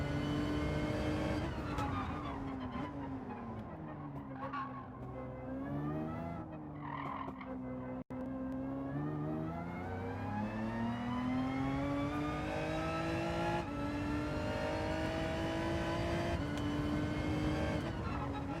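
Race cars in a Gran Turismo 7 online lobby race roar steadily as engines rev up and down through gear changes, with tyres squealing under a continuous, loud drone.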